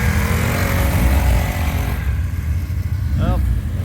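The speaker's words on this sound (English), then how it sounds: "Nothing like a pit bike." A pit bike engine runs at a race track, a rough mid-pitched drone that is loud at first, then eases to a lower idle, with a brief rising rev near the end.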